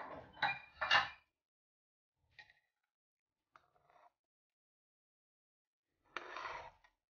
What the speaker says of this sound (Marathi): कुकरची वाफ थोडी दबल्यानंतर आता आपण ओपन करून बघूया